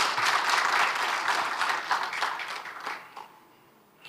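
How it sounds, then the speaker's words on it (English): A round of applause from the audience at a World Ozone Day celebration, full at first, then thinning and tapering off over a few seconds. "I think they deserve another round of applause"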